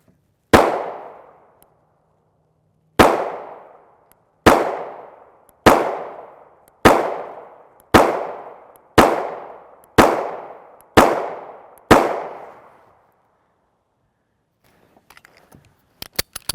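Ten sharp pistol shots from a Springfield Hellcat firing 9x19mm 115-grain FMJ brass-cased rounds, each a loud crack with a short decaying tail, spaced about a second apart, followed by faint metallic clinks.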